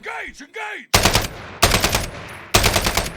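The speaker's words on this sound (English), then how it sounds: "you can actually hear this" Call of Duty Warzone gunfire previewed in the game's audio mix: after a short warbling electronic tone, three loud bursts of rapid automatic fire crack out in quick succession, close and punchy.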